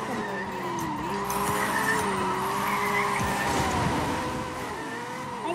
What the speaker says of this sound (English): I'm pressing my handbrake.